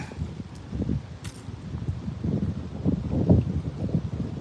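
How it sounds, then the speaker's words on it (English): Steady gusting wind on an outdoor university campus buffets the microphone in low rumbling bursts, with soft rustling on top; no one speaks. "It's very windy."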